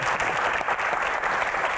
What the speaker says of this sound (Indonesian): Tepuk tangan buat Aco